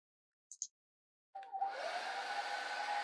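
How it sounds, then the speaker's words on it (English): A hair dryer switches on with a click and settles into a steady, loud whirring roar of blown air, preceded by two brief high clicks. "we've got our hairdryer sound effect playing."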